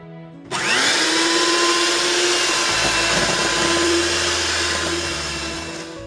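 An electric hand mixer starts up abruptly and whines steadily as it beats instant pudding, a loud close motor tone that holds with slight pitch shifts before easing off at the end.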